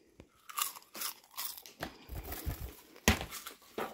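Crunchy sweet caramelized popcorn is chewed up close in bursts of loud, crisp crunches and brief pauses, with no talking.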